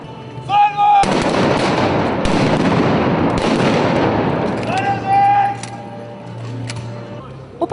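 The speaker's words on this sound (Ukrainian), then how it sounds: "хоч стріляли холостими патронами, але все виглядало майже по-справжньому" A loud, dense volley of blank gunshots crackles for several seconds at a historical battle reenactment in Lviv, with shouting voices before and after and a few scattered shots trailing off.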